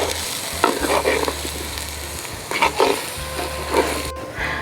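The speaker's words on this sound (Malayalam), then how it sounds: "മല്ലിപ്പൊടി മൂക്കാൻ എന്തായാലും ഇത്തിരി ടൈം എടുക്കും. അപ്പോൾ അതിനൊന്ന് മൂപ്പിച്ചെടുക്കാം." Coriander powder roasting in hot oil in a pan for a Kerala-style fish head curry, a steady close sizzle broken by a few bursts of stirring and scraping.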